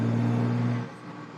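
A loud car engine revs hard with a deep, steady roar for most of a second, then drops away abruptly to a lower idle.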